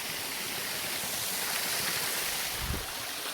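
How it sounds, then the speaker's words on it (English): Oglebay Park waterfall, a continuous rushing roar of falling water with a short low thump near the end, heard close and steady with no talk. "So, we're at the Oglebay Park Waterfall."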